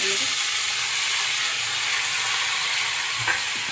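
Onion and tomatoes fry in a pan, giving a steady loud sizzle and hiss that holds for the whole stretch, with a faint clink near the end.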